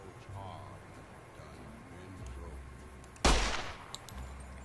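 A single loud gunshot from a gun in the wasteland game Fallout, a sharp blast near the end followed by a brief decay and a fainter second report, heard over low ambient game sound and speech.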